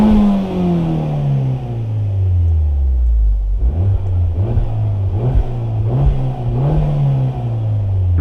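Alfa Romeo MiTo QV 170 hp with a fully stock exhaust, engine revs falling from a high pitch, then several short throttle blips rising and dropping, loud and close, no talking.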